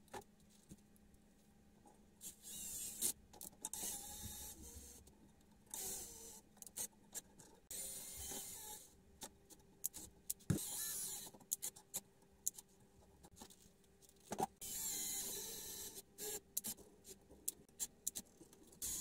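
Small screws are driven in by hand to mount the wheels on an RC equipment trailer, giving quiet, intermittent clicks and scraping ratchets of metal and plastic close by with pauses between.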